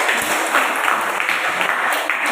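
Classroom applause during a lesson, a short burst of steady clapping from students that fills the moment at moderate loudness with no talk over it.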